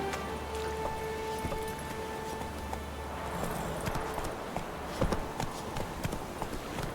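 Horse hooves clip-clopping at a steady riding pace in The Witcher 3 video game, over a continuous background of outdoor ambience and faint game noise, with a brief voice in the mix.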